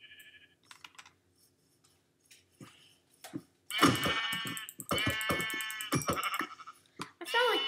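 Sheep bleating in Minecraft, a few short electronic baas around a player's keyboard clicks and fast tapping, with a loud stretch of overlapping game noises in the second half.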